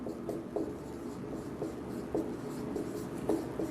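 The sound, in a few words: writing the rule by hand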